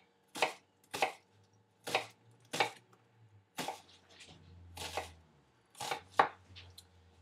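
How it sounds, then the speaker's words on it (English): A knife chops through food on a cutting board in about eight sharp, evenly spaced strokes, each one close and crisp, with no talk. "Okay, now we just cut."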